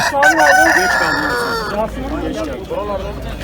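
A rooster crows loudly and close by at a poultry market, its long wavering call filling the first half, with other clucking and a voice afterward.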